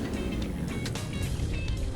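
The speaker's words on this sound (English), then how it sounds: "And now it's time to test the speed of the van using Gearbox Pro." A V8-engined van driving in a Roblox game, a loud steady low engine drone with a continuous rumble.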